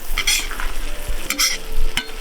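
Goose pieces and onion frying in a cauldron, stirred now and then: a steady close sizzle runs throughout, broken by a few bright scraping and stirring bursts, with no talking.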